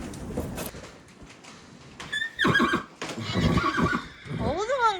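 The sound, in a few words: horse neighing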